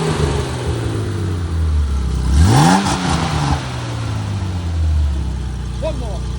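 A Porsche 964 engine revs hard through a loud exhaust nearby, its pitch sweeping up then sinking back into a deep, rumbling idle.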